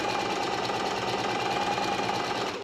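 A sewing machine stitches a buttonhole on linen pants, a steady close mechanical whirr running continuously and loud, then cutting off at the end.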